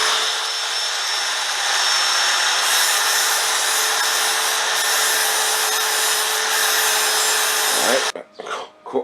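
A grinder sharpens a mower blade in a home shop, a loud, continuous abrasive whine holding steady for about eight seconds before cutting off into a few quieter clanks and handling noises.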